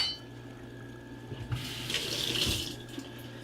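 Kitchen tap running water to add to a pot of frijoles a la charra, a soft steady stream that swells louder midway, then eases, close by with no talking.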